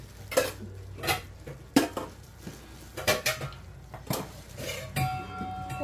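Bowls and cutlery clatter and clink in a home kitchen as bibim-guksu, spicy mixed noodles with garden lettuce, is served, with several loud, irregular knocks and scrapes close by.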